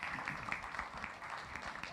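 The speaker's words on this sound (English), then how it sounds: "round of applause." Conference audience at the W3Node event applauding, a steady, fairly quiet wash of clapping from a crowd heard from a distance.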